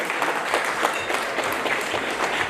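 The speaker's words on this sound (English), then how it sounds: "let's have a huge round of applause for him" An audience at a Bengaluru 10K race launch event applauds a bank's regional head of branch banking, a sustained wash of clapping with faint crowd murmur underneath.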